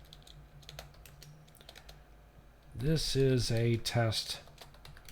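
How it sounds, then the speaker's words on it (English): Computer keyboard typing into Notepad on Windows, a run of soft rapid keystrokes heard near and moderately quiet, followed by someone talking over the end. "in Notepad, we'll go ahead and type in a file"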